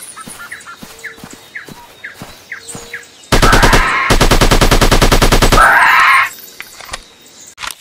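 Rapid, loud sniper rifle fire from the Sniper 3D game on a dinosaur-hunting level, a dense burst of repeated shots lasting about three seconds, with quieter scattered clicks and ambient game effects before and after.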